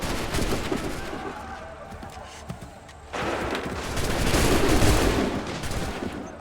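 Musket volley in the video game Assassin's Creed III: a dense, loud crackle of massed gunfire bursts in about halfway through and keeps rolling, following a quieter stretch of distant battle noise.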